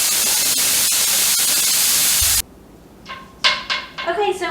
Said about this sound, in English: we're going to let that steam out for a few minutes until your gauge comes down all the way